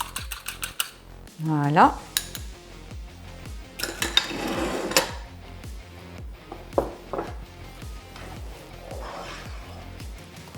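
Ingredients for a polenta, ham, mushroom and parmesan gratin beaten briskly in a bowl, a steady rapid clatter of utensil against the dish with clinks, briefly under a short spoken word.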